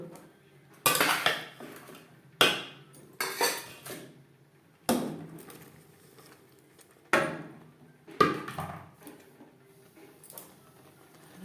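Banana stem being stirred into half-cooked masoor lentils in a metal pot, with sharp utensil clanks and scrapes against the pot in irregular bursts about every second or two, close and fairly loud, with no talking.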